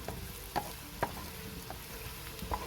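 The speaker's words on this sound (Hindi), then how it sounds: "अब हम इसकी मज़ीद थोड़ी सी अच्छी भुनाई कर लेंगे ताकि मसाले का कच्चापन दूर हो जाए।" Spices and onions fry quietly in a pot for beef nihari, a soft steady sizzle broken by a few clinks of a stirring spoon, faint and close without speech.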